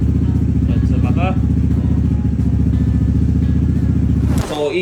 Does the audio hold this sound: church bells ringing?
no